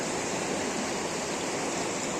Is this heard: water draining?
yes